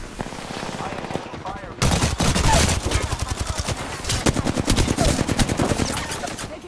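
Rapid automatic gunfire in a video game, loud sustained bursts of closely spaced shots after a quieter opening with game sounds, speech faintly mixed in.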